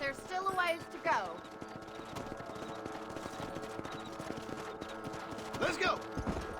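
Horse hooves clatter at a steady gallop in Red Dead Redemption, with a couple of neighs and some jangling tack over a quiet game backdrop.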